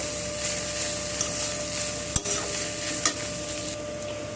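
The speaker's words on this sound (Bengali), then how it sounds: "সব সবজিকে হালকা আঁচে গ্যাসের ফ্লেমকে একদম কমিয়ে সব সবজিকে আমি ভালো করে নাড়াচাড়া করে নেব" Mixed vegetables with cabbage stirred in a pan over a low gas flame, a continuous soft sizzle under steady scraping, with a couple of sharper knocks of the spoon against the pan.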